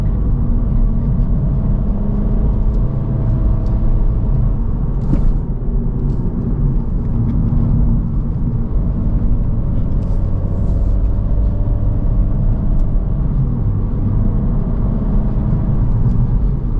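A 2023 Acura Integra A-Spec drives along winding Pescadero Creek Road, its engine a steady low rumble with road and tyre noise heard from inside the cabin, continuous and fairly loud, with no talking.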